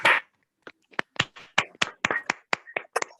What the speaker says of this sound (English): maybe we can have a big round of applause for Dr. A